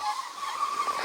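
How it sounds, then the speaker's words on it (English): Tires of a Capo JK Max all-metal RC crawler with air ride suspension give a brief scale squeal, a thin high screech lasting about a second, close with no talking. "I even get scale tire screeching sound"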